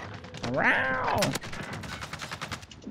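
Gunfire in the video game Call of Duty: Warzone: a sharp burst of shots just after a rising and falling voice cry, followed by a scatter of softer crackling hits.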